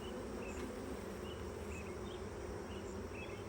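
A steady, dense swarm hum of honeybees fills the air around an open hive during an inspection, constant and close with no voices.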